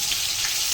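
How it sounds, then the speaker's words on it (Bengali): Pointed gourd (potol) slices frying in hot oil in a home kitchen, giving a close, steady hiss and crackle of sizzling that stays even throughout the brief moment. "এদিকে হচ্ছে পটল ভাজা"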